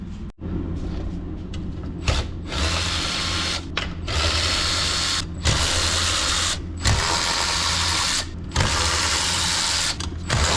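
A ratchet-like tool works in about half a dozen loud mechanical bursts while the compressor housing is removed from an Evo 8 turbo, each run separated by a short silent gap.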